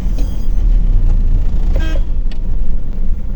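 Heavy road traffic in a jam, with a dense, loud continuous rumble of engines close by and a couple of short car horn toots breaking through near the middle.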